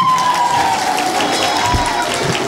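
A church congregation claps and cheers in a loud, steady wash of hands and voices, with a single wavering voice ringing above the noise.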